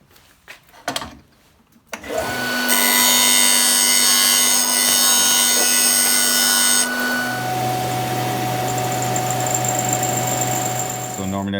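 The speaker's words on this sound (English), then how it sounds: "machine this flat with the disc sander" A brass guitar nut blank, clamped in a nut vise, is pressed against a disc sander. After a few seconds of handling noise the machine spins up to a loud, sustained grinding whine, and the pitch shifts partway through as the contact changes.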